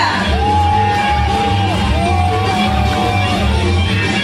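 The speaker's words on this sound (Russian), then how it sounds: "У нас можно кричать." Audience in the Anapa dolphinarium shouting and cheering loudly together, a continuous dense crowd roar with rising whoops and yells throughout.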